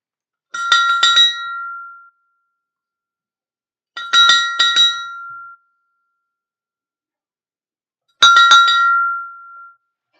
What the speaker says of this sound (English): So we're going to ring the bell for Julie right now